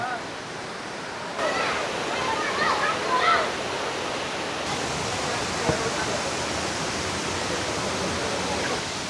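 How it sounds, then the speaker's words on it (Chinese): Constant roaring wash of falling water at Nan'an Waterfall in Taiwan fills the scene, with brief indistinct voices and chirpy sounds briefly rising above it early on. "南安瀑布"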